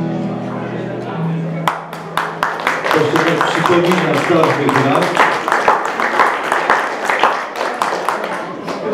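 An audience at a priest's jubilee concert claps in a brisk, steady rhythm, many hands close and loud, while someone talks over the clapping.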